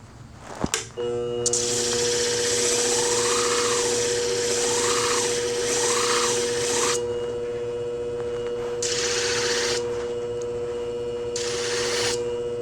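Centrix hair shears, shortened, burned and with tips that don't meet, are sharpened on one side on a motorized sharpening machine: a steady droning whir with a hum, rising and falling grinding sweeps, then intermittent bursts of contact later on.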